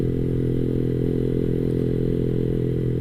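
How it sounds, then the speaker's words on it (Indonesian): A Yamaha R15 v3 motorcycle fitted with an Arrow racing exhaust runs loud and close, its deep, rumbling engine note holding steady without pause for the whole stretch. "cuman suara doang sih kalau knalpot beginian mah"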